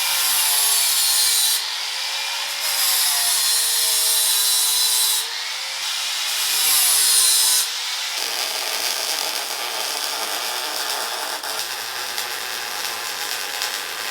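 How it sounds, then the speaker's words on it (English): An angle grinder bites into a steel tube to cut a chamfer for welding a winch bumper. The harsh, loud grinding comes in several passes, and the tone shifts as the disc loads up and eases off. "I'm going to get the grinder in and grind that chamfer into it"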